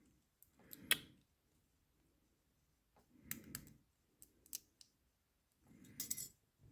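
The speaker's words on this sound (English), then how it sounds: "I may even have to cut a shim down." A metal lock shim being cut down by hand, heard as three separate clusters of close, quiet snipping and clicking with silent gaps between them.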